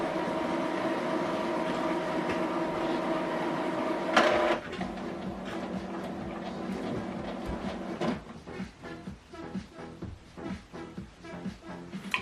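An Epson WorkForce WF-2930 printer whirs steadily through its ink initialization, then shifts after a clunk into rhythmic mechanical chugging and clicking of the moving carriage, close and continuous.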